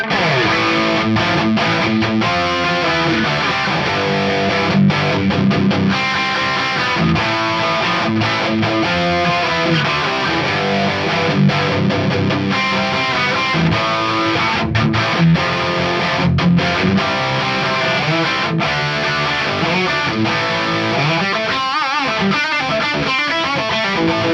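Distorted electric guitar played through an Axe-FX3 Mark I with York Audio greenback cabinet IRs, a loud sustained stretch of chords and riffs with no talk.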